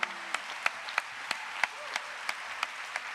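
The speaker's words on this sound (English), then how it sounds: "How about another round of applause for all of the performers tonight?" An audience applauding performers at a live storytelling evening, a steady wash of clapping with a few sharper claps standing out at a regular pace, somewhat distant and fairly quiet.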